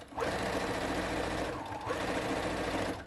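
A sewing machine stitches a scrunchie in a rapid, continuous mechanical whir. It runs loud and close, dips briefly midway and then resumes at full speed.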